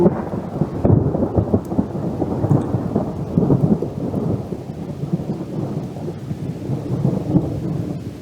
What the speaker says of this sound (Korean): 라오스는 비 올 때 항상 이 낙뢰 천둥 번개를 이렇게 막 같이 동반을 해가지고